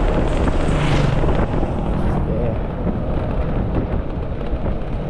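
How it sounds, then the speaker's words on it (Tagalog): Strong wind roars across an open construction site at the Riego de Dios project, where roofing trusses are being built. It makes a loud, continuous rumble and buffeting that is heaviest in the first second and then settles into steady gusting. "Lakas ng hangin."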